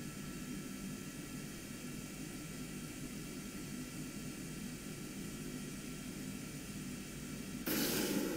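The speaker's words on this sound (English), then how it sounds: "Kicks in the afterburner pretty early, all things considered." Jet fighter-bomber in the Kerbal Space Program game roaring steadily with a broad, airy engine rush, then surging louder and harsher near the end as the afterburner lights; no voices.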